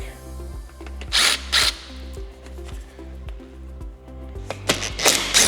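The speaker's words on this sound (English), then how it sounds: "We're going to remove the 2 T25 bolts" A driver loosens the T25 seat bolts on a 2024-2026 Harley-Davidson Street Glide Ultra, giving ratcheting clicks over a steady low hum, with several sharp, bright scraping bursts from the tool close up.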